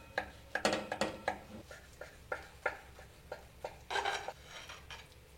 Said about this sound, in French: Je vais couper une part pour vous montrer l'intérieur.